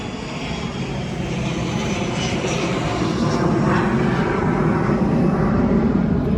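A propeller airplane passes overhead above a home front and back yard garden, its steady engine drone loud and continuous throughout, slowly building in strength, with no talk over it.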